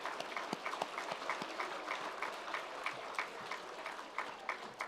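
Graduation guests applaud their family and friends, a soft, continuous patter of many hands clapping at a distance, fairly faint and steady throughout.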